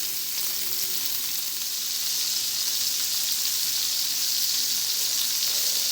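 Steaks sear in a hot pan with a dense, even sizzle that holds steady and close throughout, no talk over it.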